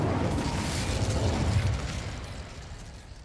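A fiery burst from the Incendio spell in the Hogwarts Legacy video game, a loud rumbling blast that swells and then slowly fades away with no talking.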